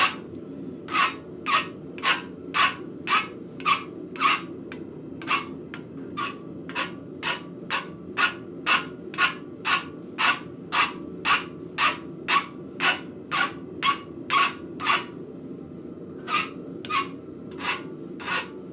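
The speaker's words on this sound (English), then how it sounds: "I'm just taking the burr off and flattening this up a little bit. And I'm just using a flat bastard file to do this" Flat bastard file drawn across scrap metal to take off a burr, about thirty rhythmic rasping strokes at a steady pace with a short pause midway and near the end, close and clear with no talk.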